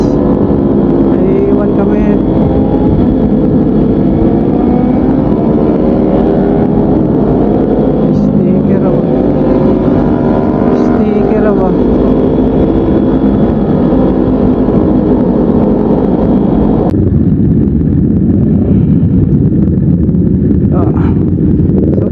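Kawasaki Ninja motorcycles ride fast in a big group toward Lobo, Batangas, with loud rising and falling engine whines heard through heavy wind buffeting, and a voice talking over them.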